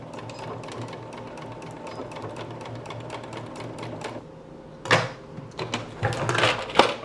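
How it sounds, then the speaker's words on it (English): A sewing machine runs a steady stitch along the edge of a hammock bug net, a continuous mechanical patter that turns more uneven and louder toward the end with a few sharp bursts. "Drop your presser foot down. And we'll just sew along one side."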